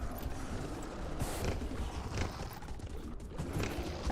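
Horse hooves clip-clopping in the video game Dragon Age Inquisition: a quiet, steady run of hoofbeats over a busy background, with several sharper thuds standing out.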